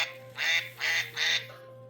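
A voice imitates a duck's quack three times in a steady rhythm, reading aloud from a children's picture book, close and clear with no other talk.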